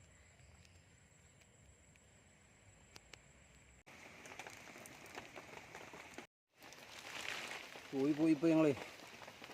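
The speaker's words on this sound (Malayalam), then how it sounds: "ചെറിയൊരു മഴയുണ്ട്" Light rain patters steadily on surfaces in the background, with a voice speaking near the end and a brief cut in the sound.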